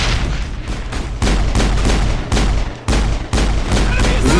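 Loud, dense gunfire with proton rounds in the Mass Effect video game comes in several sustained bursts separated by brief gaps, thick with booming impacts.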